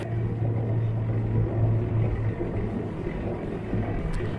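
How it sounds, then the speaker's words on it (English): A homemade tricycle car with a chain drive on a test drive, a steady low engine drone and road rumble close by throughout, no talk. "Finally, the first test drive over a distance of about 30 kilometers."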